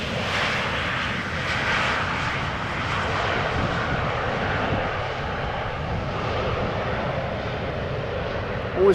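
A passenger jet arriving at Amsterdam Schiphol Airport roars steadily and loudly overhead, a broad continuous engine rumble and whoosh that holds for several seconds without fading.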